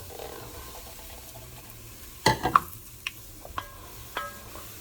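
Flour goes into hot oil in a Dutch oven for a roux, stirred with soft scraping. A sizzle and a few clinks and taps are heard, fairly quiet, with no talking.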